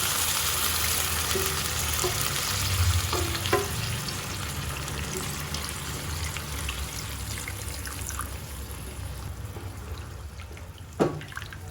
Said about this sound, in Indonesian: Masukkan rebusan daging sama air rebusannya juga saya masukin semua.